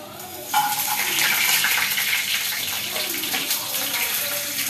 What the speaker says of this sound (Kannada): ನೀರು ಬಿದ್ದು ಚಟಪಟ ಚಟಪಟ ಅಂತ ಆಗುತ್ತೆ